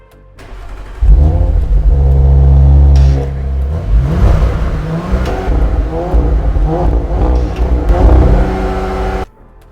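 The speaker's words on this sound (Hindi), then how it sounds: "एक बार इसका एग्जॉस्ट साउंड सुन लो" A 2024 Audi RS5 Sportback with its 2.9-litre twin-turbo V6 starts up and revs hard, a loud close exhaust bark settling into throaty rising and falling revs before cutting off, with brief talk in the background.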